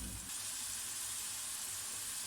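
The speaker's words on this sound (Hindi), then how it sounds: "मैंने अदरक लहसुन और ये मिर्चें ये डाल दूँगी। अगर ये डाल दूँ 1 मिनट, ज़्यादा नहीं इसके भूनना।" Ginger, garlic and chillies frying in a pan for a green chicken karahi, a steady soft hiss and crackle of sizzling oil, continuous and fairly faint, with no talk.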